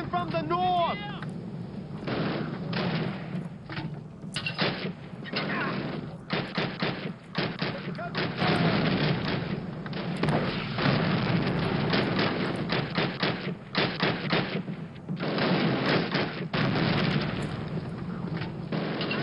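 Tank and artillery fire crash through a Call of Duty: United Offensive battle: dense, continuous gunfire and heavy booms fill the whole stretch, with a voice shouting briefly near the start under the din.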